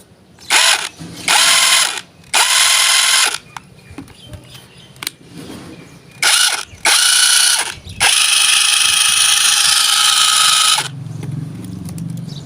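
An electric impact wrench rattles in repeated loud bursts while loosening a size 30 jam nut on an easy bike, several short and long hammering runs separated by pauses, with a low hum near the end.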